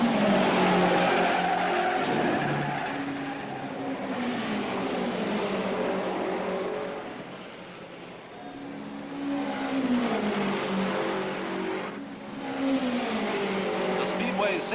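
Race cars at the 1963 Indianapolis 500, engines roaring past in repeated swelling and fading waves, with a narrator talking over the noise throughout.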